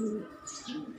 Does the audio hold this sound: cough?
no